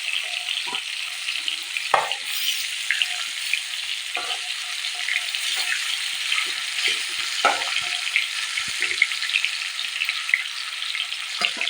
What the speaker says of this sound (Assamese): মাছকেইপিচ মই মিডিয়াম ফ্লেমত ভালদৰে ভাজি ল'ম।